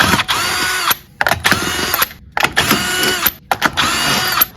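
Power tool loosening the wheel nuts to remove a tire on a Hyundai i30, four loud, close whirring bursts of an impact gun with short silent gaps between them.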